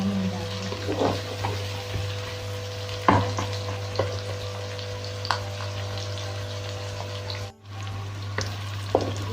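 Onions fry and sizzle in a pan over a steady hum, with intermittent scraping stirs of the spoon and a brief pause near the end; no talking.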